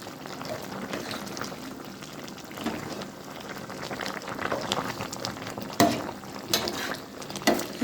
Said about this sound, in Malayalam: നന്നായിട്ട് തിളക്കുന്നുണ്ട്.